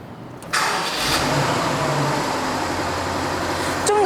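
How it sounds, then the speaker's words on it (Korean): BMW 7 Series engine cranks and fires at about half a second, then settles into a steady, close idle rumble with a brief rise near the end. "3000cc와는 다른 엔진 소리니까 한번 집중해서 들어보셔도 좋을 것 같습니다"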